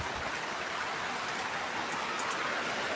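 Steady, even rain hiss fills the whole stretch, a dense wash of drops with no voices and no break in intensity.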